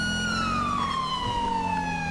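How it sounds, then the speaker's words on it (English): Police car siren in GTA 5 LSPDFR on a Myrtle Beach police patrol near Del Perro Pier, a loud wailing tone sliding slowly downward with strong harmonics over a low engine hum, with no voices. "I'm going to go and just mute my siren"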